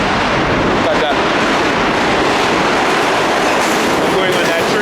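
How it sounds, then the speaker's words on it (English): New York City A train subway at 14th Street, a loud, constant rumble and rattle of the moving train filling the whole stretch with dense, unbroken noise. "I'm going on that train."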